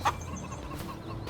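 Chickens clucking inside a chicken coop in the Farming Simulator 25 video game: one sharp, close cluck at the start, then soft scattered clucks over a low murmuring background.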